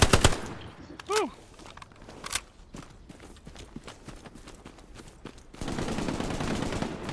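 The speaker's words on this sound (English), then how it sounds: "Yeah, there's a machine gun on the left side." Machine gun fire in the WWII shooter game Hell Let Loose comes in sharp bursts, starting close and loud, then breaking into scattered shots before a dense rattle of firing at the end.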